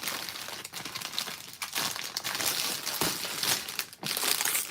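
Continuous close crinkling and crackling of plastic wrapping, handled in bursts with brief pauses, fairly loud and without talk.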